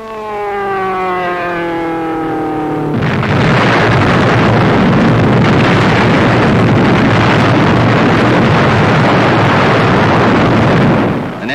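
A concentrated salvo of 100-pound aerial bombs from a 1944 RAF bombing attack bursts at once into a loud, sustained roar of blasts and rumble that fills the clip after a few seconds of a rising wartime siren-like drone.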